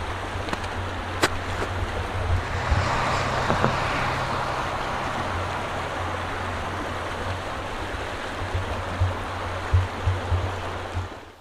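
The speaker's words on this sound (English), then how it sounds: "So check out this running river over here." A river runs with a steady broadband rush of flowing water close by for the whole stretch, while a low hum and a few faint knocks sit underneath it.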